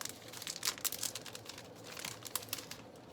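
A paper transfer envelope is handled up close, with soft crinkling and rustling bursts that come and go irregularly for a few seconds; no one speaks.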